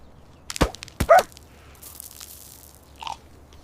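Raw food is bitten and crunched in a few sharp, close bites, spaced apart, with a fainter crunch near the end in an otherwise quiet setting.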